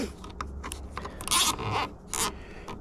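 Zip tie ratcheting tight around cables during an amateur light-bar install, a quick series of close, sharp zipping clicks and rasps in a few short bursts, alone without talk.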